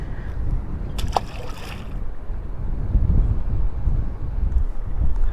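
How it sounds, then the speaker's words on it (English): Wind gusts roar across an open lake while fishing for wiper, a low, rumbling, buffeting rush against the microphone that swells and fades with no talking. "and man, it is windy"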